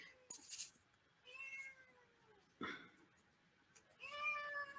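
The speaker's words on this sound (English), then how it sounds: "My little cat, he's loud." A pet cat meows loudly several times, with drawn-out cries spaced across a few seconds, close to the listener, in an otherwise quiet room.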